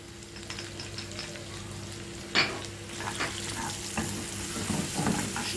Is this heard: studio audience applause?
no